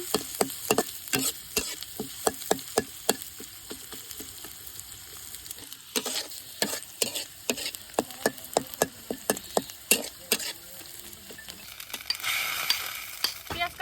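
Onions and green chilies sizzle in hot oil in a wok with cumin, while a spatula scrapes and stirs in a steady run of sharp, close clacks over a continuous frying hiss.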